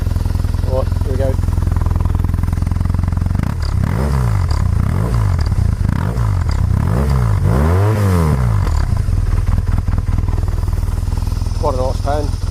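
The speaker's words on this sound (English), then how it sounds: "see if I can give it a little bit of a rev and see if you can see if it's going to come through." A 2007 BMW R1200RT motorcycle engine idling, then revved several times in rising and falling sweeps before settling back to idle, with someone talking briefly at the start and end.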